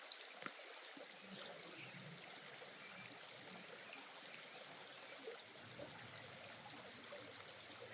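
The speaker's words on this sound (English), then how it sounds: "I listen to the creek." A creek flows steadily past a campsite on a Pennsylvania backpacking trail, a soft, constant trickling rush heard alone with a couple of faint clicks near the start.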